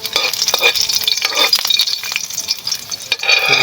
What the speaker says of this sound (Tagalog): So, mainit na po siguro yung kawali. Tapos ilalagay na pa natin ng bawang.